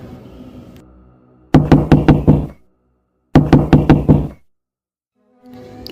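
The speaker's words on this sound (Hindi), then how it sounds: "लेकिन फिर से गेट खटखटाने की आवाज़ आती है।" A gate in a cartoon is knocked on in two quick bursts of about five sharp raps each, loud and close, with a pause between them and faint ambient sound around.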